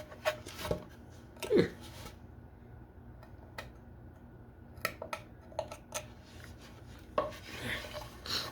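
Chisel carving a small wooden bunny, irregular sharp cuts and scrapes spaced a few seconds apart against a quiet background.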